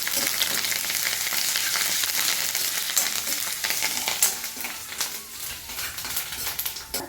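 Mustard seeds, chana dal and curry leaves splutter and crackle in hot oil for a Kumbakonam tomato thokku, a close, busy sizzle with sharp pops that eases slightly toward the end.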